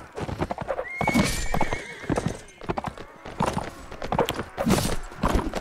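A horse in the video game Mount and Blade Warband whinnies loudly in a long rising neigh over rapid clip-clopping hooves and clattering battle noise, with busy sound continuing throughout.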